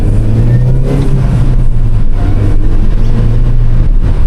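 A Mini Cooper S is driven briskly around corners, heard from inside as a steady, loud engine drone with road roar and no talking.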